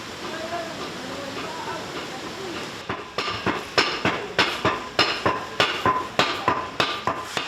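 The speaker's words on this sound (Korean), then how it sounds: "무언가를 두드리는 소리를 따라가 보니 여인들이 나무망치로 천을 두드리고 있다." Women in a village in Guizhou, China, pound cloth with wooden mallets, making a steady series of sharp, evenly spaced knocks close by over a background of rushing water.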